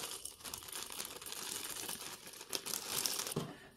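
About 150 plastic beads, yellow ones stirred into a larger batch, rattling and clattering together in a container as a continuous close, quiet crinkly rustle with a few sharper clicks.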